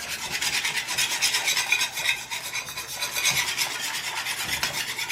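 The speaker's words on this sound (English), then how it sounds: "I'm gonna just continue to whisk until it gets thick" A brown sugar, honey and garlic glaze being whisked in a bowl, a steady rapid scraping and rasping that rises and falls in quick strokes, close and fairly loud, with no talking.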